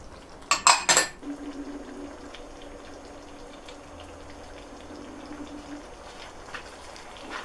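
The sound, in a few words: mixing frozen peas into lamb keema curry in cast iron pot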